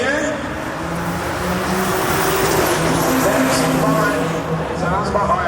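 Turbocharged Toyota MR2 AW11 with a swapped 3.5 liter V6 drives past at a roll race, a steady loud engine drone with harmonic lines and faint tire noise, with a voice talking over it.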